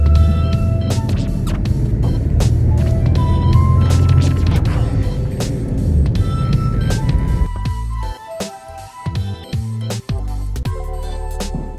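A car drives along a road, heard as a steady low rumble and hum with scattered clicks and knocks; the noise thins and turns more broken toward the end, as if slowing.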